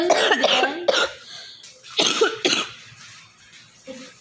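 Several sharp, harsh coughs come in bursts, some close together, with short quiet gaps and a faint voice near the end.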